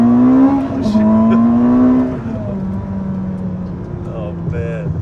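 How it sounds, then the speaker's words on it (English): A twin-turbo hybrid sports car accelerating hard, its engine note rising then dropping at a shift, with a faint whooshing intake sound and light voices in the cabin. "When you rip it, you could hear the. That's the air being sucked in by the turbos."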